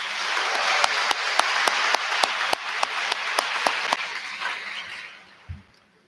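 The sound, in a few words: audience applause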